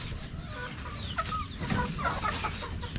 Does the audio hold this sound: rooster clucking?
yes